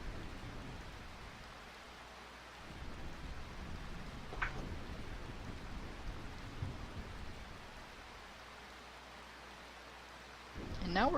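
Steady rain falls in Final Fantasy IX, a soft continuous hiss of moderate level with a few brief louder swells and a short sharp sound near the end.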